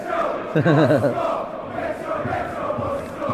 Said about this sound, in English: the crowd that he likes to stand in sings his name